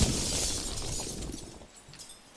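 Glass shatters in a ragdoll physics video game as a character crashes through a pane: a bright crash followed by a fading tinkle of falling shards, alone with no talk.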